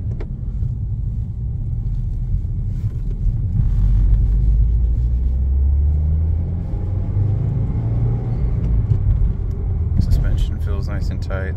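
A 2018 Subaru WRX drives along a road, its steady low engine and tyre rumble continuous throughout, with a brief shift in tone near the end; no clear talk is picked out over the road noise.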